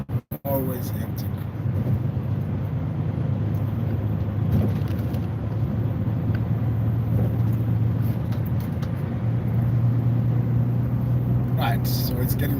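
Continuous low rumble of hectic Birmingham road traffic from inside a car, steady engine and road noise after a brief opening knock, with a voice talking over it.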